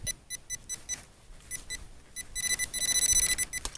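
Metal detector beeping while searching for a buried old coin at an abandoned village house foundation: quick repeated high-pitched electronic beeps, steady pulses that grow denser and louder toward the end, over faint digging noise, no talking.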